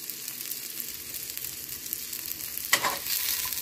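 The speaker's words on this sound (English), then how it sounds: "I'm gonna fry up the eggs in that" Eggs frying in a pan of leftover spicy tomato sauce, a steady close sizzle that swells into a louder crackling burst near the end as more goes into the pan.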